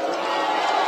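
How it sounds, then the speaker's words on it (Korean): Applause and cheering from a huge crowd at a large candlelight rally, a dense, continuous roar of clapping heard briefly at full volume. "큰 박수로 힘을 보태주시기 바랍니다"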